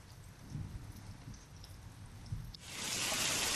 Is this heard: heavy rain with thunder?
yes